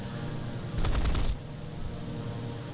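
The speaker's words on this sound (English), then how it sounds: "Fire it off, mix the next burst, shoot past." Beaufighter machine guns in the War Thunder flight game fire one loud, dense burst of about half a second, standing out clearly over steady engine drone.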